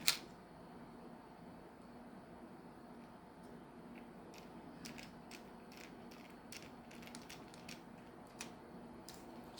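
Tiny screws being tightened on a Rivarossi EMD E8 model locomotive, a scatter of faint quick ratcheting clicks and creaks over a low room hum, close and quiet.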